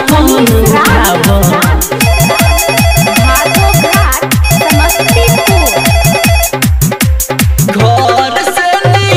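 A loud, close telephone ringtone plays a fast repeating electronic melody with steady beats, continuing for several seconds with no voices over it.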